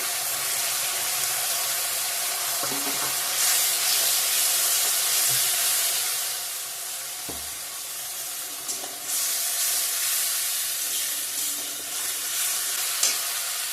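Ginger and onion paste sizzling in a hot pan for a home-style fish curry, a continuous loud hiss and crackle, close by, with occasional soft clinks and no talk.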